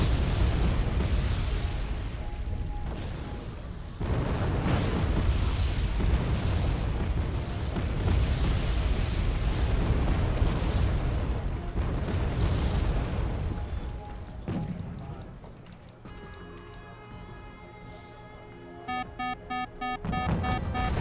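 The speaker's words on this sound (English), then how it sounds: "Rocket artillery, Smirks, Pepper. This whole area will be covered in explosives." Rocket artillery barrage in the Wargame Airland Battle strategy game, a dense, continuous rumble of overlapping explosions that fades near the end into quieter game tones and a few short beeps.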